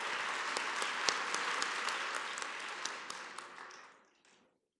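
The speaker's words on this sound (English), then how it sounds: "stand and receive a round of applause" An audience applauds administrators and school board members at a city-wide school art festival opening ceremony, a dense, steady clapping that holds for about four seconds before tapering off into silence.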